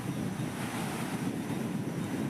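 Sea waves break and wash along the shore at Porbandar, a continuous rushing surge mixed with wind buffeting the microphone, moderately loud and steady.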